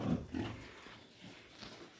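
Piglets grunt and snort close by in a few low, short bursts, louder at first and then fainter, with no talking.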